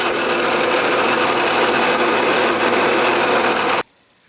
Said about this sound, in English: I'm going to move down 1/2 inch and center drill the other one so I don't have to change tools.